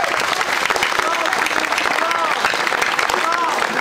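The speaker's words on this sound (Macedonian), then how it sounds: "И за нив еден огромен аплауз за студентите." A large outdoor crowd at a protest camp in front of the government building in Macedonia gives a loud, sustained applause for the students, a thick, even roar of clapping with some voices mixed in.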